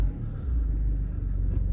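A Jaguar XF 2.0d diesel with automatic gearbox and about 95,000 miles idles nearby with a deep, steady rumble, a low continuous drone of the engine running smoothly without revving.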